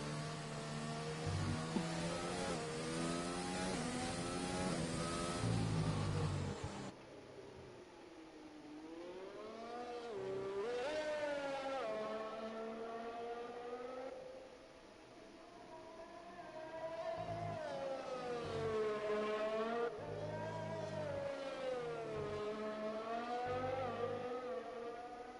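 An F1 race car engine in a video game, on a hot lap at the Russian Grand Prix, screams through rising and falling gear changes with repeated upshifts and downshifts, loud and continuous throughout.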